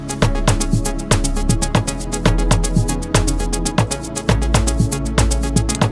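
A simple clap drum sample inside FL Studio for a 3 step house beat, snapping sharply in a steady repeating pattern over a thumping kick and bassline, loud and close with no talking.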